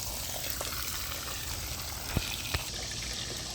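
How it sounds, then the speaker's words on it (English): Water draining out of a dwarf caiman enclosure makes a steady, low trickling wash, with two brief louder splashes near the end and no voices. "I can let some of this water out now."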